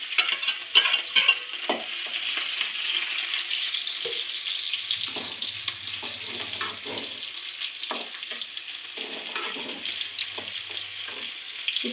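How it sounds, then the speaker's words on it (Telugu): Chillies frying in hot oil with garlic while being stirred: a constant bright sizzle with the scrape and clatter of a spoon moving through the pan, close and steady throughout. "ఇప్పుడు చిల్లీస్ వేస్తాను."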